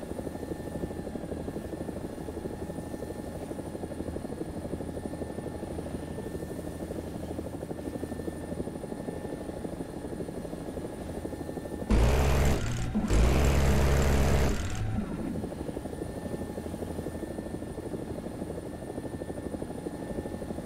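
An AB 205 helicopter flies in a PvE game, its rotor and engine giving a steady, loud, continuous drone throughout, with a brief louder rushing surge about two-thirds of the way through and no talking.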